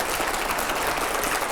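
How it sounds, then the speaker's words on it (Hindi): Dense, steady applause from a TV studio audience, loud and continuous with many hands clapping at once, no voices on top. "जोरदार तालियां हो।"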